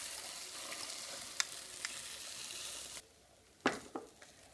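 An egg and minced meat mixture sizzles faintly in a heated omelette pan, a quiet steady crackle broken by a few sharp clicks and scrapes from nearby utensils.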